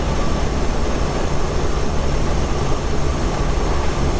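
A diesel-swapped Jeep TJ Wrangler cruises at 58 mph, about 2,200 RPM on 12 pounds of boost, filling the cabin with a constant, loud engine drone and road roar that never lets up.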